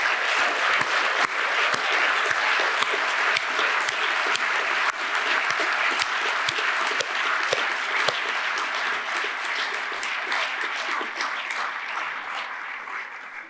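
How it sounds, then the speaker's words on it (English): Sustained applause from the audience at an Academy of Science induction ceremony greets the new Fellows, a steady roomful of clapping with sharper individual claps popping out, fading slightly toward the end without talk. "Ladies and gentlemen, please applaud the new Fellows of the Academy of Science."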